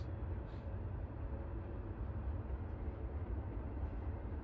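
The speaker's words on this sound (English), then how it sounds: "Music to my ears. And by music, I mean train noises." Steady rumbling train noise from the video game Return of the Obra Dinn, a continuous low roar with rattling rail clatter held at an even level throughout, no talking over it.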